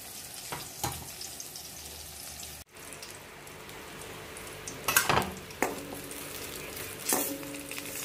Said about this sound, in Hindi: इसे पकने देते हैं और फ्राई होने देते हैं